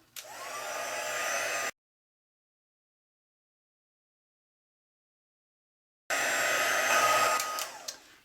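A heat tool blows on embossing powder to set it on a Christmas easel card. It makes two loud, steady blowing bursts separated by a few seconds of silence, with no talking.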